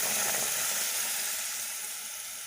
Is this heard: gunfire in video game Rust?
no